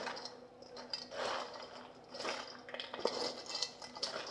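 Herb stuffing ingredients being mixed and folded together in a bowl, giving soft, irregular scraping and clinking of a utensil against the bowl in quiet, uneven bursts.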